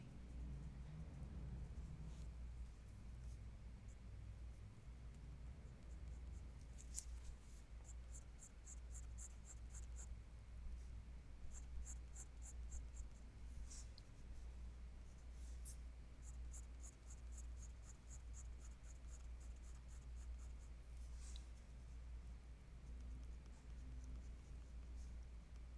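A pencil scratches and strokes steadily across paper that is being shifted around, with quiet rubbing and short bursts of hatching throughout a faint, continuous drawing session.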